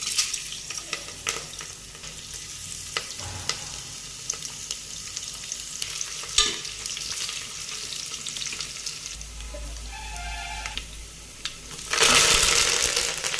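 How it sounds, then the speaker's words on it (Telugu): Whole spices for a tempering fry in hot oil for an Andhra pappu pulusu, a steady close sizzle with crackles, a deeper bubbling rush near the end and a louder burst of spattering at the close; no talk. "ఆయిల్ హీట్ అయిన తర్వాత తిరుగుబాత దినుసులన్నీ అందులో వేసుకోవాలి"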